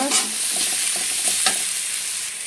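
Chili powder being stirred and fried in a pan with aloe vera juice, giving a bright, steady sizzle under a few quick scraping strokes of a spoon, close and fairly loud throughout.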